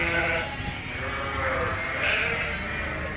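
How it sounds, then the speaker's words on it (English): Suffolk ewes on a working sheep farm bleating loudly and close, overlapping calls rising and falling in a continuous flock chorus with no talk. "the next group of Suffolk ewes that will need to be shorn next month"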